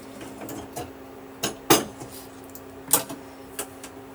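A metal kadhai wok on a gas stove gets set aside, giving a few close metallic clanks and a louder knock, separated by brief quiet gaps in a kitchen.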